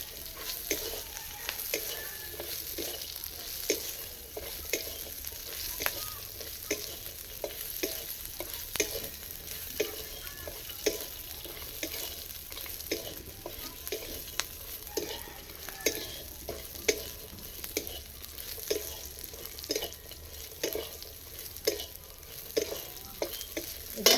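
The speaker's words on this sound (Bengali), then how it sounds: "কাজু কিচমিচ আর বাদাম এগুলো আমি দিয়ে দিচ্ছি এর মধ্যে একটু ভেজে নেবো এগুলো" Cashews, raisins and almonds fry in a pan under a light sizzle while a spoon stirs them in quick repeated scrapes and taps, a steady close rhythm carrying on throughout.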